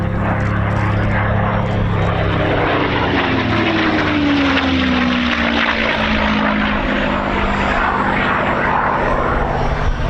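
An Allison-engined Mustang fighter flies at the RAF Cosford Air Show 2022, a loud, continuous propeller-engine drone whose pitch slowly falls as it passes.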